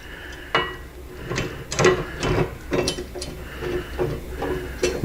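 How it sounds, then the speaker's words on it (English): Metallic clicks and scrapes come as a button head bolt with a washer is slid through a motorcycle saddlebag rail on a Harley Street Bob, several sharp close knocks and ratchety clacks at irregular intervals. "slide our bolt through"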